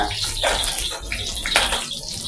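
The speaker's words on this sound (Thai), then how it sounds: "ใส่หมูกรอบลงไปก่อนนะครับ" Store-bought crispy pork frying in hot oil in a pan, being re-crisped for a spicy stir-fry with wood ear mushrooms; a loud, steady, close sizzle and crackle runs throughout.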